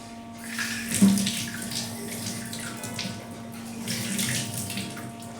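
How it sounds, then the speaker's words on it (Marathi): Carrots rinsed under a running kitchen tap, a steady close splash of flowing water with a brief louder clatter near the start, no voices. "गाजर आहे, त्याला आपण धुवून घेऊया पहिला"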